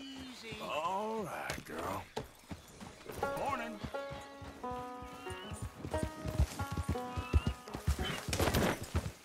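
Horse hooves clip-clop in the Red Dead Redemption 2 video game, a steady walking rhythm mixed with whinnies, game music and people talking over it.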